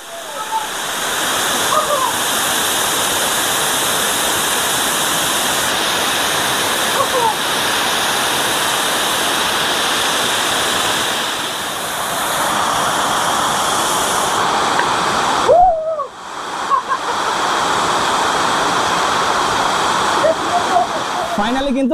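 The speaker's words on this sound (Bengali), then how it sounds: "এই সেই দীর্ঘ প্রতীক্ষিত ঝর্ণা কতটা সুন্দরভাবে ঝরে পড়ছে দেখুন" A waterfall near Langurdang in the Relling area of Darjeeling cascades down, a loud continuous roar heard up close, with a person talking over it throughout.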